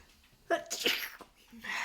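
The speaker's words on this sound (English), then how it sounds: "I'm about to sneeze." A single close sneeze bursts out after a short inhale, followed by a faint vocal sound.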